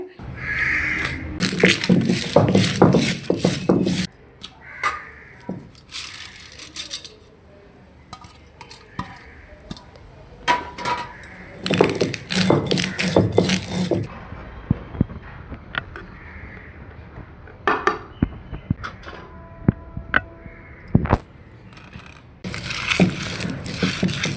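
Turkey berry chutney being ground by hand on a traditional ammi grinding stone, giving repeated scraping, rolling strokes in bursts with short pauses, close and fairly loud, with a few clinks between passes.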